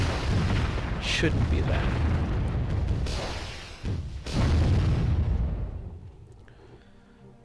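Bombard artillery firing in the strategy game Warzone 2100, loud heavy booming blasts that swell and fade in repeated waves, with someone talking briefly over them.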